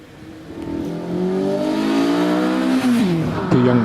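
A Westfield race car accelerates hard up the Doune hillclimb, its engine climbing through rising revs with a quick gear change near the end, loud and close.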